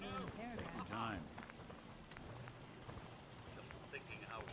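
Rain falls in the video game Fallout 4, a soft steady patter beneath a voice speaking near the start and again toward the end.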